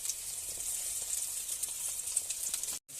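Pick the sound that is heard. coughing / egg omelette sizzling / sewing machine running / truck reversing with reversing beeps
egg omelette sizzling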